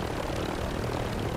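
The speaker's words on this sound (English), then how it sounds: "That's someone's helicopter right there, dude." A helicopter's engine and rotors give a loud, steady drone in a battle royale shooter game, continuous and close for the whole moment.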